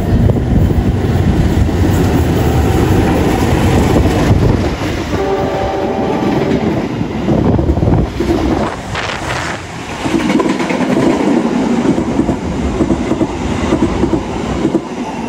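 The Bengawan train from Pasar Senen to Purwosari in Indonesia rumbles past loudly and close, wheels clattering over the rails, with a sustained horn blast partway through.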